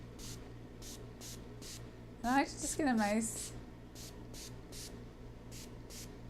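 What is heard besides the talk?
ionic spray bottle spraying wet gloves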